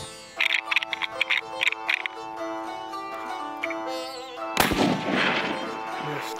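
A single rifle shot fired at a deer from a bipod rings out loudly and sharply, cutting through music and followed by a noisy, washing decay.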